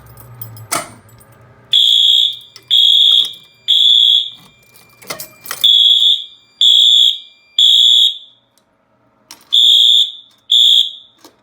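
Fire alarm system set off from a pull station, loud high-pitched electronic horn blasting in a regular on-off pattern of about eight pulses, with a few sharp clicks and knocks before it starts.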